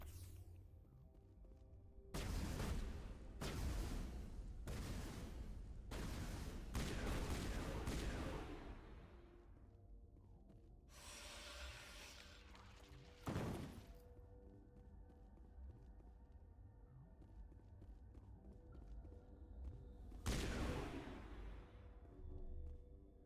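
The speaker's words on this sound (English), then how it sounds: "You shooting rockets at me," Rockets and gunfire in a Mass Effect Legendary Edition firefight, a string of loud sharp blasts in bursts with quieter gaps, then a few more scattered bangs near the end.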